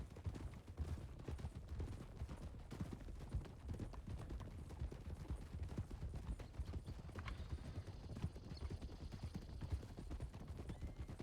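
Horse hooves canter in the Western role-play video game Red Dead, a rhythmic, evenly paced clip-clop of hoofbeats on the ground, fairly quiet and continuous throughout.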